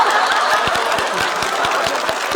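A studio audience at a comedy roast claps in a brief burst of scattered, fairly quick claps, mixed with light chuckling and crowd murmur.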